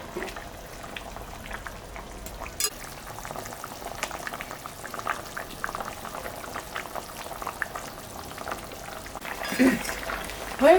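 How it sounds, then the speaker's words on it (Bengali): Fish curry broth with potato and tomato bubbles steadily in a pot, a continuous close simmering crackle with scattered pops that grows louder near the end. "ঝোলটা হয়ে গেছে, ফুটে গেছে"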